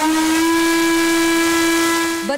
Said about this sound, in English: steam engine 1309, that's the real star of the show